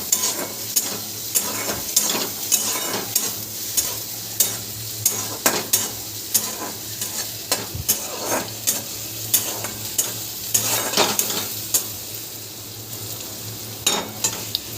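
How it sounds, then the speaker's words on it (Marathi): Onion frying in hot oil in a kadhai while being stirred, a continuous bright sizzle broken by repeated sharp scraping and clinking strokes of a spatula against the metal pan, close and fairly loud. "त्याच्यामध्ये कांदा टाकून घ्यायचा कांदा आपल्याला ब्राऊन होऊपर्यंत चव हलवत राहायचा आहे"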